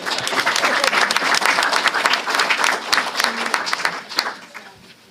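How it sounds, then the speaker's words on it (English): Clapping from the crowd at a school board meeting rises quickly into a lively round of applause, then thins out and fades toward the close. "Please give her a round of applause."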